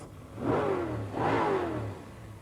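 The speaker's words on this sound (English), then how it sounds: "He's going to rev it for us." A 1967 Plymouth GTX V8 engine at a Woodward Dream Cruise revs twice in close succession, each blip swelling into a loud mid-pitched roar before settling back toward idle.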